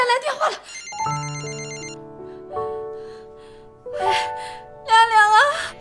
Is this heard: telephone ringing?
yes